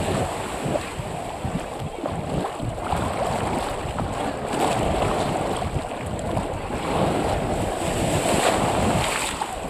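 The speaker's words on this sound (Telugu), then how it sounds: "అలలు కూడా" Surf rolls and washes in continuously on a beach, a broad roar of sea waves mixed with gusty wind noise on the microphone.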